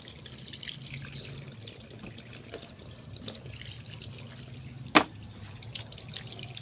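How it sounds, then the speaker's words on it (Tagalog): Tap water runs steadily while soap is washed under it, a faint, even trickle with one sharp knock partway through. "So, papaagasin lang natin siya sa gripo. Yan yung gripo natin."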